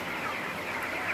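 Chickens on a poultry farm in hot weather cluck faintly amid a constant background hum, a soft brief murmur of fowl with no talking.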